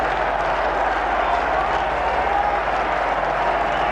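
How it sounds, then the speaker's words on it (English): Cricket crowd at the Kennington Oval roaring after a wicket by Darren Gough in a 1999 World Cup match between England and South Africa; dense, sustained cheering and applause at steady loudness throughout. "the crowd here at the Kennington Oval erupt"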